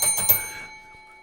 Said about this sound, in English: and yes, you get the bell.